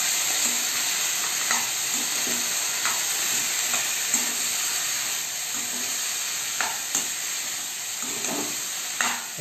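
Browned onions fry in a kadai with loud, continuous sizzling and hissing, broken by occasional stirring clinks and scrapes at an uneven pace. No one speaks.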